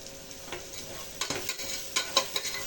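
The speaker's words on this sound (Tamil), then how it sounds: "நல்லா வதங்கட்டும்" Chilli, mint and coriander sauté in a pan with a low crackling sizzle and a few sharp stirring scrapes close by, with no voices.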